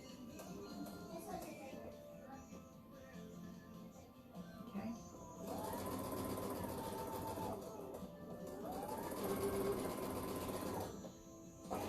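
A sewing machine stitching quilt fabric, running in two long bursts of rapid whirring after quieter handling sounds, with a voice talking softly at the start.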